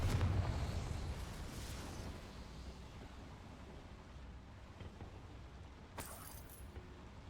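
A Confringo fire spell detonates in a mine in the video game Hogwarts Legacy: a loud, deep boom bursts at the start and fades into a long rumbling tail, with a faint crackle later and no talking.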